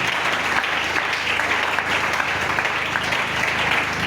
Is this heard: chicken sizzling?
no